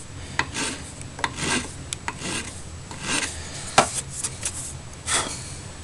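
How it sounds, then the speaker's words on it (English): A hand file rasps across a pewter-cast rifle stock in irregular short strokes, close and crisp, with scattered scraping bursts and brief pauses between them. "I'm just filing."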